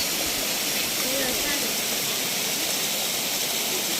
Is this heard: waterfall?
yes